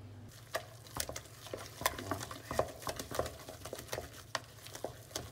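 Melted butter stirred into a pot of mashed potatoes, with a utensil giving soft, irregular clicks and scrapes against the pot over a steady low hum.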